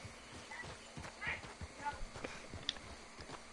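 Horse hooves clatter in a quick rhythm alongside a brief whinny during Red Dead Redemption online play, moderately quiet, with someone talking over them.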